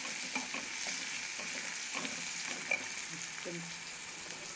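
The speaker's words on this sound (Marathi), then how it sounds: "त्या सर्व आपल्याला तेलावर छान परतून घ्यायच्या आहेत" Leftover chopped vegetables sauté in oil with a steady, soft sizzle and occasional stirring scrapes, fairly close but not loud, with no voices.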